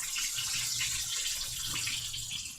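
Garlic and butter bubbling in oil in a frying pan for piccata, a steady hissing sizzle heard close up without talk.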